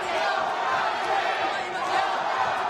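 Fight crowd at a Road FC mixed martial arts event roaring and cheering for hometown fighter Youngi, a sustained distant wash of crowd noise filling the whole moment with no clear break.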